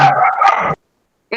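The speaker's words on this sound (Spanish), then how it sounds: "es un perrito, es mascota" A small pet dog gives one loud, high yelping bark lasting under a second, followed by silence and the start of another bark at the very end.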